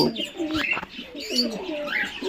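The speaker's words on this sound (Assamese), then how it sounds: "এইখিনি দেখা পাই আছে ফেণ্টেল পিজন" Fantail pigeons coo at a pigeon farm in Guwahati, Assam: close, soft, throaty calls overlap with a few brief chirps over about two seconds.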